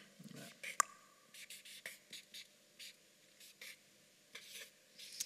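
A marker or pen writing on a board gives short scratchy strokes in an uneven rhythm, close and fairly quiet, with a brief voice near the start.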